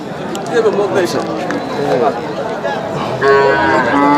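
Local desi cows and calves low at the Ambari cattle market, with a long, loud moo near the end rising over a busy crowd of chattering voices.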